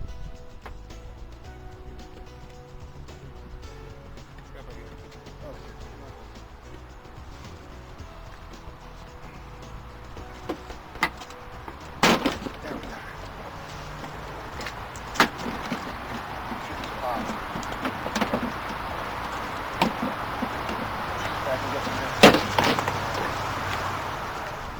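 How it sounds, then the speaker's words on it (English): Quiet workshop hum broken by sharp plastic cracks and pops as a car bumper is tugged and pried outward at the fender corners, several louder snaps near the end. "pry outward on the corner of the fenders, and it takes some tugging"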